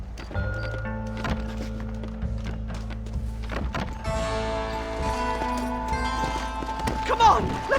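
Horses' hooves clatter in quick rhythmic clip-clops in Red Dead Redemption, layered with game music and ambient effects, with a brief whinny near the end while characters talk.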